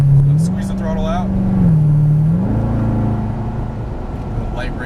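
Chevrolet Corvette Stingray engine droning and shifting pitch as it accelerates out of a turn on a track, steady and close, with a driving instructor talking over it.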